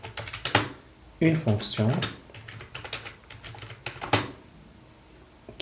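Keystrokes on a computer keyboard while writing a database function, clattering in short bursts and a steady patter between stretches of someone talking over them.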